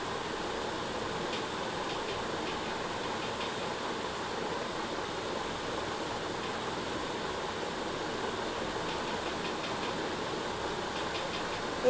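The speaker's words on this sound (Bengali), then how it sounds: "এইভাবে সব তালের বড়াগুলো আমি ভেজে নেব" Palm fruit fritters frying in hot oil, a steady, even bubbling hiss that continues without pause and stays moderately loud, with no talk over it.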